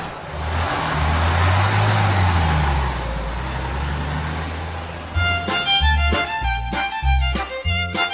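A bus engine drones and rumbles steadily as it drives, then the sound cuts to a different scene with a clattering, plucked musical passage.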